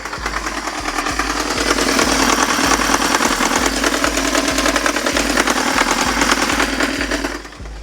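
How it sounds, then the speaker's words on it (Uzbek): Kia Sportage engine with a faulty connecting rod running under repair, a steady idle dominated by a loud, regular low knock repeating about twice per second, close to the microphone, before the engine cuts off at the end. "Motor ovozini eshitdinglar, katta ehtimol bilan val stuk berib yuborgan."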